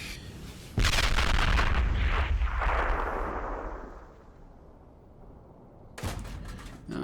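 Heavy tank cannon blasts in a tank destroyer video game, a loud boom at the start that rolls into a long fading rumble, then another sharp report near the end.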